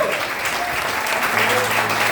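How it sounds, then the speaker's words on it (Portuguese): Church congregation at an anniversary service applauding, a steady dense wash of clapping from a crowd, with a voice speaking over it. "Você pode aplaudir ao Senhor."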